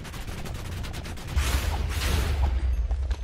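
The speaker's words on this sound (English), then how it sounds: "We'll move back a bit for the explosion" A deep rumbling explosion bursts out in a Minecraft modpack as the wither spawns, a dense roar with a crackling start and a heavier low boom building through the middle, loud and sustained with no voices.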